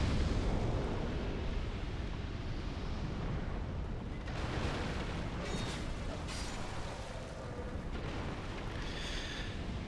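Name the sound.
explosion in the video game Dark Souls 2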